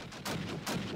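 Gunfire in Call of Duty: United Offensive multiplayer on the Foy map: two loud, sharp shots about half a second apart, close and unaccompanied by voices.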